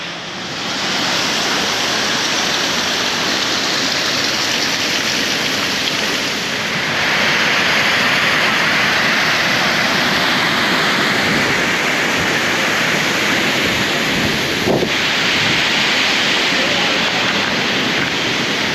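A jungle river on a Caribbean island rushes past close by, a loud, unbroken wash of flowing water that holds steady throughout.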